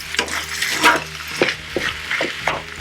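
A spatula or spoon stirs and breaks up plum tomatoes through rice in a pan, giving loud, repeated scraping and wet squelching strokes with a soft sizzle underneath, close up and with no talking.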